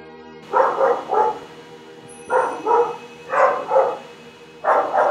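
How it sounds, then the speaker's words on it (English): Several dogs bark from a floor below, heard indoors in repeated bursts of two or three loud barks separated by short pauses. "The dogs downstairs make lots of noise in this video"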